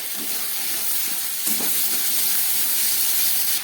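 Ground spices with coriander powder frying in a pan, a continuous close hiss and sizzle with a few soft stirring scrapes, no voices.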